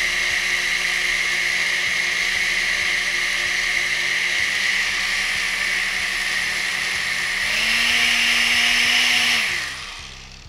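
A blender whirs steadily through rice with garlic, coriander and oregano for tamales, a loud continuous motor drone that rises in pitch near the end before cutting off.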